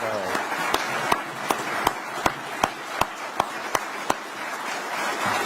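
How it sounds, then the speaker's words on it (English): Applause for a state broadband division team at a governor's announcement, heard as a roomful of clapping with regular loud individual claps standing out at an even pace over the dense patter. "just give them a round of applause"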